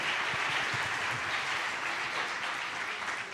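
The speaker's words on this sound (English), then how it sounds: "Give him a round of applause" An audience at a live music performance applauds, giving a dense, steady wash of clapping that lasts the whole stretch and fades slightly toward the end.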